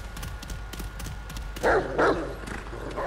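Dog barking in the video game Remnant From the Ashes, two loud, close barks late in the clip over a low game background with faint clicks and thuds.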